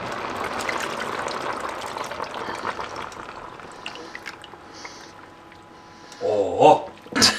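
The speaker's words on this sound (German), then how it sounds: "jetzt gieße ich das Ganze auch mit der Kokosmilch und Sahne ab" Coconut milk and cream are poured into a pan, a soft continuous liquid pour and sizzle running close to the mic, ending with a few louder clatters and splashes.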